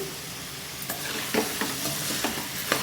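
A spoon stirs a spicy country chicken curry in a pan after turmeric goes in. Steady frying sizzle runs under a few distinct scraping, clinking strokes spaced irregularly, close by, with no talking.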